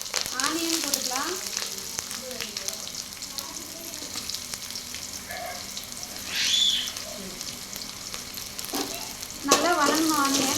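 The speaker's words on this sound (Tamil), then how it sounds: "நல்லா வதங்கணும் ஆனியன்." Onions sauté in a hot pan for a South Indian curry with cinnamon, fennel and curry leaves, giving a steady close sizzle and crackle with occasional stirring scrapes throughout.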